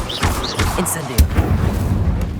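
Incendio fire spell cast in the Hogwarts Legacy video game, a series of short whooshing bursts and booming impacts amid dense combat effects, loud and close.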